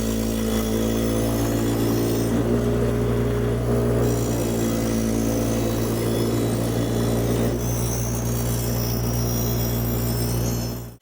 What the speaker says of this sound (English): I'm going to start with the wire wheel just to clean it up, and then I'm going to do a second pass with the actual grinding wheel.